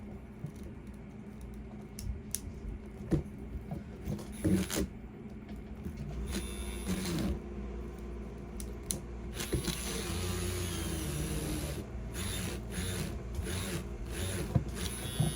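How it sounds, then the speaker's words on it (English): A small drill whirs and grinds through plastic in bursts, making a hole in a decorative dragon wreath, with scraping and handling noises between runs, close by. "I'm taking a little drill and I'm trying to drill through this plastic for the wing."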